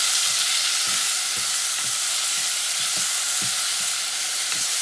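Tomato fries in a pan for kangaroo chili, a constant dense sizzle with soft stirring scrapes tapping through it at irregular intervals, close and alone.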